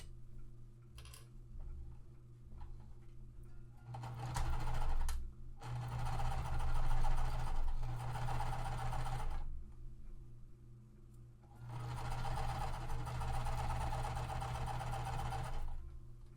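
A sewing machine stitching quilt seams on a Tree of Life pre-made quilt, running in three bursts of rapid, even whirring and ticking, with quiet pauses between runs.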